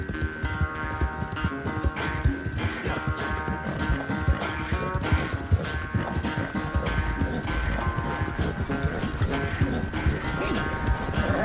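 Horse hooves clip-clop steadily beneath a rider in the Red Dead Redemption 2 Western world, mixed under continuous game music and ambience, with occasional speech.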